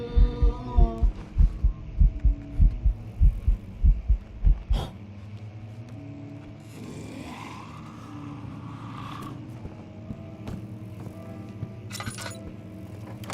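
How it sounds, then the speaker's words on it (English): A deep, throbbing heartbeat effect from the ghost-hunting game Phasmophobia pulses loudly and rhythmically for several seconds, then stops abruptly, leaving a low hum and faint clinks. "Alwyn, you did the Phasmo heartbeat"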